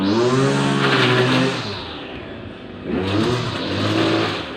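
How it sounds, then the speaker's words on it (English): An engine drones close by outdoors with rising and falling revs, swelling, dipping around the middle, then surging again, matching a leaf blower being worked through leaves. "this is just more of the leaf blowing"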